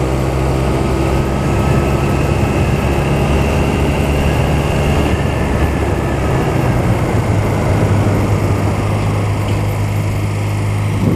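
A loud, steady engine drone holds in second gear throughout, with a continuous rumbling roar and shifting hum tones and no pauses or speech.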